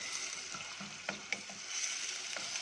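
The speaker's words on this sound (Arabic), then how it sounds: "هشوح البصله بقى ان شاء الله" Onion sautéing in oil or ghee in a pan gives a steady, close sizzling hiss with a few soft stirring clicks and scrapes. No one speaks.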